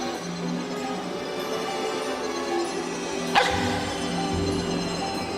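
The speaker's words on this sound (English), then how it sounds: "Hark, hark, bow, wow, the watchdogs bark." Dog barking in a children's television adaptation of Shakespeare's The Tempest: one sharp bark stands out near the middle, over a steady background with faint, low barks or yips following it.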